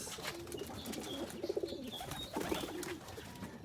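Racing pigeons coo softly and repeatedly at close range, a low burbling murmur with a few brief flutters and chirps.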